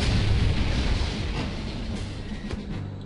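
Weapon fire in Septerra Core lands as a loud booming blast at the start, then a rumbling, noisy decay with faint crackles trailing off.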